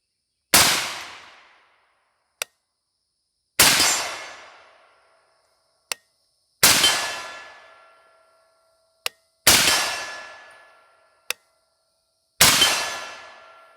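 Five rifle shots in 54R through a YHM Titanium Phantom suppressor, each a sharp close crack with a ringing decay, evenly spaced about three seconds apart, with a small metallic clink between shots.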